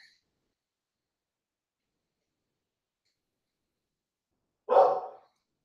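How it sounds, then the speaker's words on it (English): After a long silence, a dog gives a single short bark close by. "I don't know what my dogs are wound up about"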